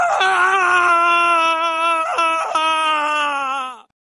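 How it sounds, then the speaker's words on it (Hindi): An eerie, drawn-out wailing cry in a haunted-mansion horror tale, loud and close, a single quavering moan that rises, wavers and then cuts off abruptly, with no talking. "हवा में किसी के रोने की आवाज गूंज उठी।"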